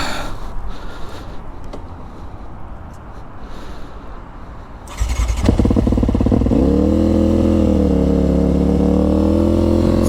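A Honda Rebel 500 V-twin motorcycle engine idles and then runs loud and close, a steady throbbing drone that holds after a sudden rise in level, with faint voices nearby.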